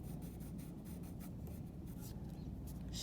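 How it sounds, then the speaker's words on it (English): Brown colored pencil drawing door panels on paper, a steady close scratchy rubbing with short repeated strokes, no talking. "So I'm going to put in my door panels with my brown pencil."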